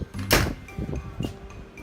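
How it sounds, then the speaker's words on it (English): Connecting balcony doors between cruise ship cabin decks open with a few sharp clacks and sliding thumps, close and fairly loud, with no talking. "These are all doors in between the decks. And they just open up."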